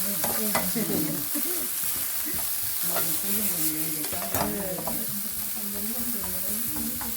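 Bellflower root fries, sizzling and crackling in a hot pan, with occasional clinks and scrapes of a utensil stirring nearby.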